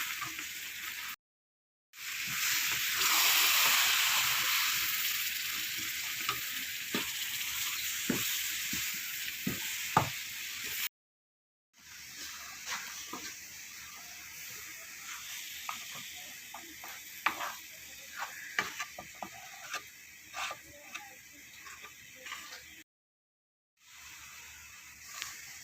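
Ladoo mixture of flaxseed, coarsely crushed raisins and almonds, and coconut powder being stirred in a pan, with soft continuous scraping and faint sizzle broken by brief silent gaps.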